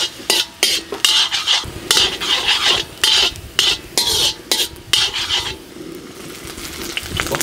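Garlic in two spoons of oil is stirred in a pan, with rhythmic scraping strokes of a spatula against the metal that come in bursts over a soft sizzle, close and loud, no talking.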